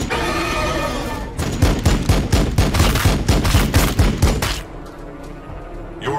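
Unit gunfire in the video game Warhammer 40000 Battlesector: a loud, close fusillade of rapid repeated shots about four seconds long, with dense overlapping bursts and booming low end, then fading into a quieter rumbling battlefield background.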